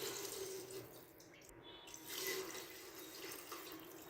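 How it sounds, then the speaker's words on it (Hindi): Water pours steadily from a tap into a pot of browned chicken gravy for a dhaba-style desi murgh shorba, a soft continuous splashing stream with brief faint clinks. "अब हम यहाँ पर पानी ऐड करेंगे।"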